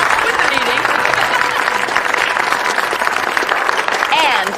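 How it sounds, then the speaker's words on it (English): A dinner crowd applauds the master chef, with dense sustained clapping filling the room while voices talk over it. "I think we owe a round of applause to our master chef of the evening, Mr. Andrew Browning, for that fabulous meal"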